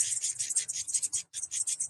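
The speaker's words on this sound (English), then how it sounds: "this is the sound of a mixed species, lots of different species, mobbing" Rapid, repeated high-pitched chips and chatter from a mixed-species flock of birds mobbing, with a brief pause midway before the agitated calling resumes.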